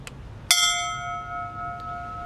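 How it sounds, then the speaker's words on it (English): A single fire bell struck once at a firefighters' memorial ceremony, ringing out loud and clear with a long sustained metallic tone that slowly fades. "followed by the ringing of a fire bell"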